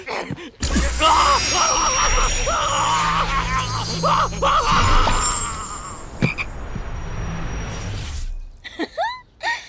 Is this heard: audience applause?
no